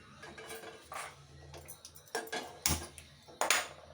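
A pan set down on a home kitchen stove while making sweet wheat-flour appam, giving several sharp metallic clanks and clatters of cookware, close and fairly loud, with no talking.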